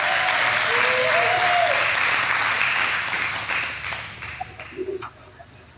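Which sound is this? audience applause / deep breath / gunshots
audience applause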